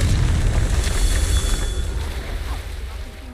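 A Confringo blasting curse explodes in the video game Hogwarts Legacy, giving a loud, deep boom whose low rumble slowly fades over a few seconds, with faint voices in the background.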